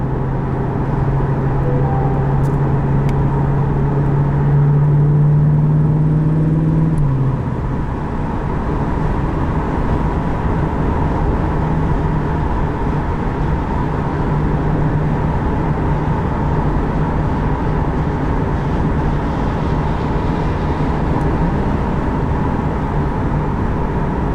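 A 2021 Chevrolet Corvette 1LT, mid-engined with the performance exhaust, drives along with a steady droning engine and road roar. A low engine tone holds, then drops as if shifting after several seconds.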